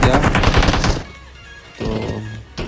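Gunfire in a PUBG-style battle royale shooter, with a dense burst of rapid automatic shots up front, a quieter lull, then a few more bursts and a single late shot.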